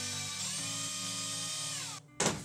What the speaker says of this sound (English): I'm now going to drill a small hole through the plastic here